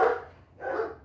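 Two loud, close barks from a Rottweiler, about half a second apart, in a short burst.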